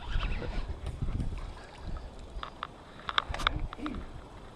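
A pontoon boat underway on a lake after a thunderstorm, with steady low motor rumble and wind buffeting the microphone, plus a few faint higher knocks and splashes near the end.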